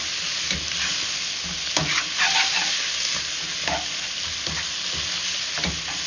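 Herbs being stirred together in a hot pan with wild mushrooms and squirrel, a steady broadband sizzle running throughout with several scraping stir strokes cutting through at irregular intervals.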